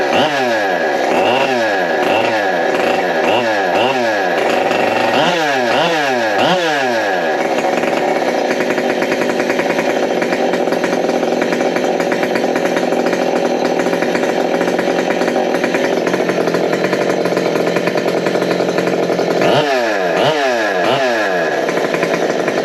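A big bore 572 chainsaw runs loud and close, its engine rapidly revved in repeated blips, then holding a sustained high-speed scream before another burst of revving near the end.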